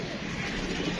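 Pigeons in a loft with a male and female pair, a steady low cooing murmur running throughout the moment amid faint background noise, no voices.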